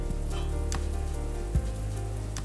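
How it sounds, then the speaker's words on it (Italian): A Neapolitan pizza deep-fries in oil at 200 degrees, a loud, close, continuous sizzle with bubbling crackles and one brief thump partway through. "Stiamo friggendo a 200 gradi per avere una cottura dorata e perfetta."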